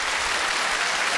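A live audience at a televised anniversary special of a national singing contest claps to welcome a guest entertainer, a short burst of dense, uniform applause.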